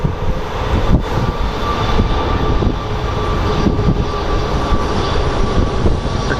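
An airliner departing Phoenix Sky Harbor airport, its steady broadband engine roar filling the scene at close range, with gusty wind buffeting the microphone throughout.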